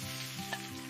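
Breakfast frying in a pan gives off a brief, soft, steady sizzle with a faint tick partway through, no voices.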